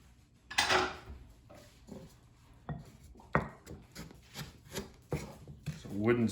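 Sugar, butter and eggs are beaten together in a bowl with a wooden spoon, producing quiet, irregular knocks and scraping rubs close up, with bursts of varying strength.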